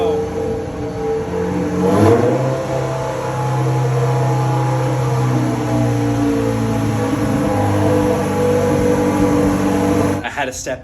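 A tuned Acura Integra running race fuel and methanol injection sits on a dyno, its engine droning steadily with a brief rev partway through, while voices talk over it.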